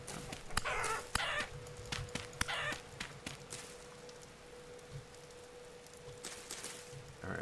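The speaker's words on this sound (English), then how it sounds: "Chickens! See if I could kill some." Chickens clucking and squawking in short bursts in the video game Vintage Story, over a steady background hum, with sharp clicks scattered throughout.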